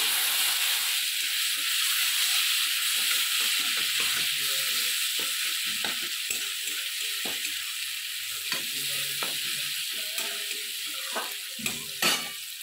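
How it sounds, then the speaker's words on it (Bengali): Garlic paste fries in a pan with a steady sizzling hiss, broken by frequent scraping stirs of a spoon that grow sharper toward the end. "এখানে আমি এবারে রসুন বাটা 1 চামচ ভালো করে ভেজে নিলাম।"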